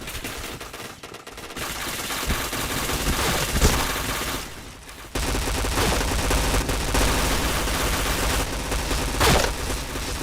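Rapid bursts of UMP submachine gunfire in a video game, dense and continuous with a couple of short pauses, firing loudly without talk.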